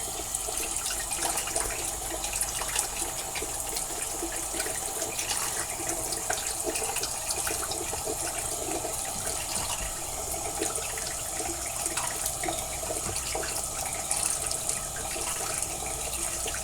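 Tap water runs steadily into a sink during a wet shave with a safety razor and Palmolive soap, splashing continuously and fairly close for the whole stretch, with no talking over it.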